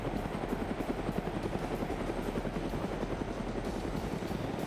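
Helicopter in a Vietnam-era PvP video game, its rotor chopping in a steady rapid rhythm over a low engine drone, sustained and fairly faint throughout with no talk.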